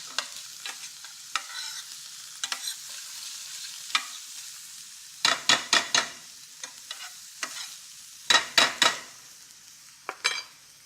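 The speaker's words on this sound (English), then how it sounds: "I want to stir and cook that, albeit very briefly, just to take the bright color out of that tomato paste" Tomato paste cooking in a pan, stirred with a utensil in repeated bursts of scraping and clacking against the pan over a quiet sizzle, close up, with no voices.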